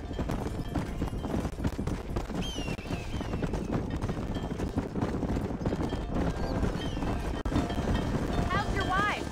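Horse hooves clip-clop steadily in the Western video game Red Dead Redemption, a brisk trotting rhythm under continuous character dialogue and faint ambient wind.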